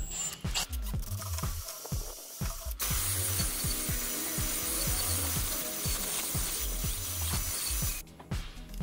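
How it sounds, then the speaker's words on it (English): A wire brush scrubs the inside of a metal turbo pipe from a Nissan Navara to Patrol turbo conversion, a rapid, loud rasping rhythm of strokes heard close up, with brief pauses between bursts. "just put a wire brush through it and try and clean up the inside"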